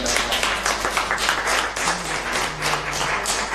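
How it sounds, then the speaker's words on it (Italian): An audience at a conference on refugee reception in Barrafranca applauds. The clapping is moderately loud and sustained, with a faint low hum underneath. "E faccio un applauso perché è stato eccezionale."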